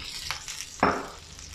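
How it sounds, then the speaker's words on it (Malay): Fried egg tofu tipped into a hot pan of cooking sauce for tofu telur masak kicap, giving one loud sizzling burst that fades into a steady low fry, with softer stirring scrapes before it. "kita masukkan tofu telur yang kita goreng tadi"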